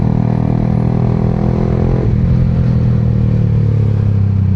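Yamaha R15M motorcycle fitted with a full-system exhaust riding at speed, a loud steady engine drone that shifts pitch partway through as the rider changes gear, close and continuous with wind noise and no talking.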